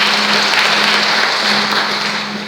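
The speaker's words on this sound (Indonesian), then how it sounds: "tepuk tangan yang meriah." A congregation at a Christmas service in a Pentecostal church in Pontianak gives loud, lively applause, a dense continuous roar of clapping with a steady hum underneath that eases slightly at the end.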